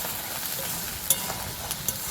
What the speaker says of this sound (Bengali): আরও একবার মিক্স করে নেব।